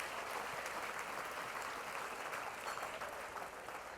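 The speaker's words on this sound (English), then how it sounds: "A round of applause real quick for" Crowd applause at a benefit event, a continuous, even roar of many people clapping, fairly distant and soft, holding steady for the whole stretch without speech.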